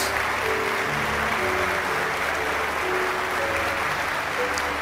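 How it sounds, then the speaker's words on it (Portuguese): A church congregation applauds after a sermon, producing a dense, steady wash of clapping that holds evenly across the whole stretch without breaks. "Um aplauso para ele, irmãos."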